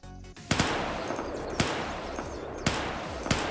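Gunfire from a modded rifle in the video game Unturned, set back to its default configuration: four sharp, loud shots spaced roughly a second apart, each with a short ringing tail, and no talking.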